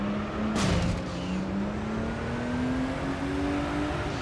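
A car engine in Gran Turismo 3: A-Spec drones steadily in a low gear, its pitch climbing slowly as it revs under a dense, constant roar of road and engine noise, loud and close.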